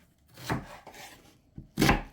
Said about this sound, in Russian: Одну большую луковицу нарезаем мелкими кубиками